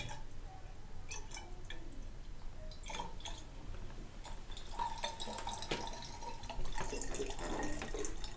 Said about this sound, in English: I'm going to then fill this up to the line with additional water